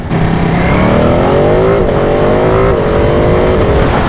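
A 2019 Ducati Panigale 959 sport motorcycle accelerates on a test ride, its engine note loud and close, rising steadily in pitch through a few short gear changes under constant wind roar.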